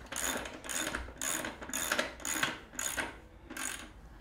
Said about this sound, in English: and tighten the axle nut.